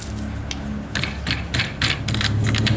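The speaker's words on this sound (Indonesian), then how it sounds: "Nah, ini screennya bisa kita jepit." A clamp board screw is tightened down on a screen-printing screen, giving a series of short ratcheting clicks and mechanical ticks in uneven bursts over a low background hum, close and moderately loud.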